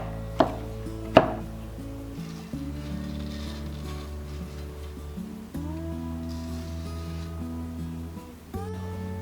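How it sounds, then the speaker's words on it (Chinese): A knife chopping roasted nuts for five-nut mooncake filling gives two sharp cuts near the start, followed by a steady droning tonal hum for the rest. "同时把体积大的坚果切碎"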